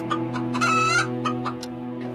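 A hen clucks and squawks close by in a few short bursts, loud and clear with no other sound.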